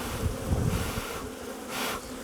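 A colony of honeybees drones steadily in an open hive during an inspection, a dense close buzz swelling and easing in waves, with a brief louder whoosh near the end.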